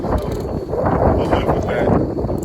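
Outdoor wind buffets the microphone in a constant low rumble that gusts unevenly, while someone speaks briefly over it.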